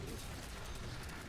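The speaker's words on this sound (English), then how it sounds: "Grenade! Fucking grenades!" A grenade detonates in the Halo 4 campaign on Heroic, a dense, rumbling low boom that fills the whole moment, with heavy sustained roar and no separate voice standing out.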